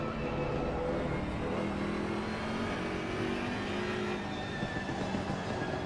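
Onboard engine of the number 99 BMW race car in a racing video game at Spa-Francorchamps, a constant, fairly faint engine roar holding a steady drone with no talk.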